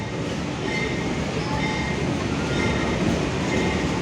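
Pasundan Lebaran economy train hauled by a CC 203 diesel locomotive, a steady loud rumble of rolling wheels and carriage noise heard from on board without pause.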